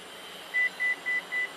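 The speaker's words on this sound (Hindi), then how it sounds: "तो ये गाड़ी 4 दफ़ा बीप करेगी और अब इसकी नई हाइट सेट हो गई है।" A 2024 Toyota Fortuner Legender 4x4 gives four short, evenly spaced electronic beeps as its tailgate opening height is set, clear over a low steady background hum.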